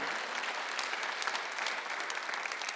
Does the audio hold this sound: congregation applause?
yes